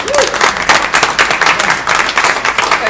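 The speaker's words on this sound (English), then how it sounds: "They deserve a huge round of applause." Audience applause for the panelists at an evening event, a steady dense clapping that holds loud and continuous throughout, with some faint crowd murmur underneath.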